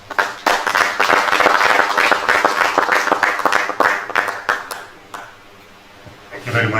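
Audience applause at a funeral services conference meeting in Kenya, a dense burst of clapping from a hall crowd that thins and fades out near the end, with a voice coming in afterward.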